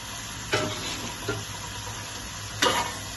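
Bay leaves, lemongrass, galangal, turmeric leaves, bird's-eye chillies and pickled cabbage fry gently in oil for a carp curry, a quiet steady sizzle broken by three sharp stirring scrapes.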